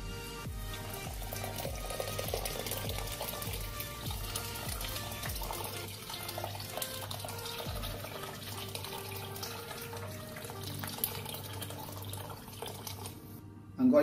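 1.5 liters of water runs steadily into a pot of rice, a continuous pouring rush with a faint low hum beneath it, ending in a brief louder knock.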